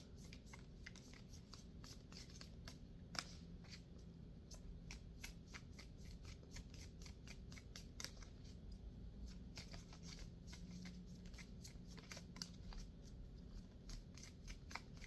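A hard-to-shuffle oracle card deck is shuffled over and over at close range, with quick riffling flicks and soft slaps in a continuous, quiet rhythm.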